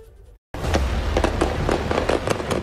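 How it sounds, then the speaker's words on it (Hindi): After a brief silence, rapid bursts of sharp cracks ring out, like repeated gunfire echoing outdoors in Kabul, fired by the Taliban at protesters, with noisy commotion underneath. "गोलियों की गड़गड़ाहट से गूंज उठा काबुल"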